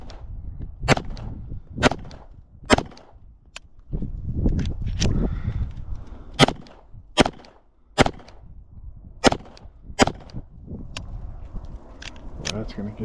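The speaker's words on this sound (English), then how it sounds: "Trying to shoot with both eyes open." About a dozen sharp, loud pistol shots from a Glock 17 Gen 4 ring out at uneven intervals roughly a second apart, each a crisp crack, with someone talking between shots.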